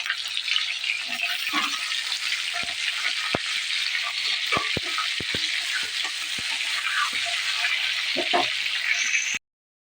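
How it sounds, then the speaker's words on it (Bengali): Pointed gourd (potol) pieces fry in oil that was just used for prawns, giving a steady close sizzle throughout with scattered sharp crackles and pops, and no talking over it. "এবার পটলগুলো একে একে লাল লাল করে ভেজে নেব।"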